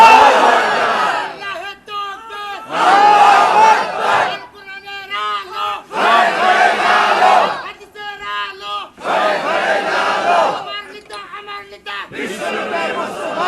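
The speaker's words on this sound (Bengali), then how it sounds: "এই মুহূর্তে স্লোগান তুলতে হবে যুব সম্প্রদায়।" A large crowd of youths at a rally chanting slogans in loud, rhythmic bursts of massed voices, alternating with a single leader's call between them.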